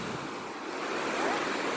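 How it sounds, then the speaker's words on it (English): Big ocean waves wash onto a beach in a steady, soft broadband roar with a gentle swell of surf, faint and continuous with no voices. "There's like big waves."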